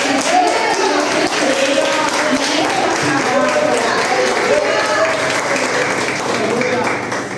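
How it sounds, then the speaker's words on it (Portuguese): A church congregation applauds during a sermon, a dense continuous wash of many hands clapping that fills the room, with voices calling out over it and the applause easing slightly near the end. "Você pode aplaudir o Senhor."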